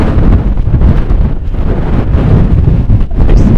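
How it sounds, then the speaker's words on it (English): Strong wind buffets and roars across the microphone in continuous loud gusts, with no voices. "It's windier. Woo! It's windy."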